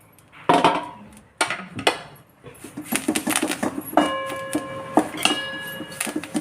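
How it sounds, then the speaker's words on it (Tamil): Curry leaves dry-roasting in an empty pan for curry leaf podi, giving a series of close, irregular crackles, taps and light metallic clinks that grow denser toward the end, with no talk. "நம்ம வந்து கருவேப்பிலையை வெறும் சட்டியில் போட்டு நம்ம வந்து வறுத்துருவோம்"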